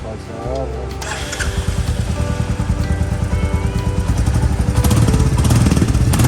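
A motorcycle engine starts after a service that included a gas kit change, then settles into a steady, close, throbbing run whose pulses are loud and even and grow slightly stronger toward the end.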